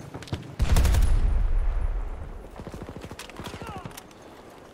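A gunshot in the video game Battlefield 2042 cracks out loudly near the start, a single heavy blast with a booming tail that fades over a second or two, followed by quieter clicks and rattling game sounds with a voice talking.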